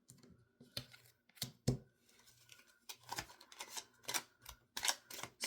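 Crisp, irregular flicks and slaps of tarot cards being shuffled close by, coming in quick bursts with short pauses between them.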